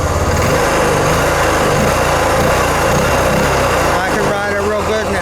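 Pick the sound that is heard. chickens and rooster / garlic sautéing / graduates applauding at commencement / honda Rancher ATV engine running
honda Rancher ATV engine running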